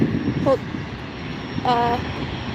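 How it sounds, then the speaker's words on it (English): A Cessna 750 Citation X jet taxiing along an airport taxiway makes a steady, broad engine roar that runs throughout, with faint brief voice fragments above it. "taxiing down the taxiway, we have a Cessna 750 Citation X"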